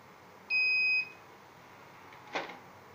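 A single electronic buzzer beep from a PIR motion sensor circuit in an automatic door opener, steady and shrill, lasts about half a second in a quiet room, followed later by a faint click.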